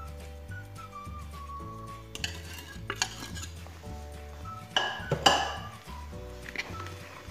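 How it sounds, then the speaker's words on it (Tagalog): Pandesal dough made with butter, egg and yeast mixture is stirred by hand in a bowl, giving soft irregular scraping and occasional clinks of utensil against the bowl, under quiet background music. "imano-mano lang natin ng halo"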